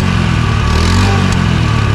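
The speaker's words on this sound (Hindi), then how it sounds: "एग्जॉस्ट है 2009 का मॉडल एक्टिवा का" A 2009 Honda Activa scooter with a modified exhaust idles loudly and close by, a steady low engine rumble with a throaty, uneven pulse and no speech.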